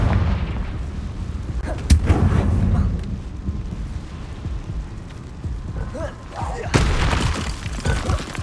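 In the Hogwarts Legacy video game, the Confringo explosive spell sets off loud, booming blasts, with a heavy burst near the start and another late, amid rumbling battle noise.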